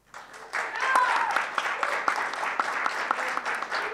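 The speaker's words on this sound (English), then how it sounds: "Please give a cheer for Teemu Vabit Hiilinen." Audience at a live esports industry talk event applauding as a speaker is introduced: a dense, steady wash of clapping starts abruptly and continues at moderate loudness, with scattered sharper claps standing out.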